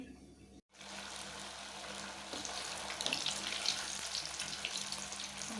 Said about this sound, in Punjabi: ਤੇ ਹੁਣ ਮੈਂ ਲੱਗੀ ਇਹਨਾਂ ਨੂੰ ਫਰਾਈ ਕਰਨ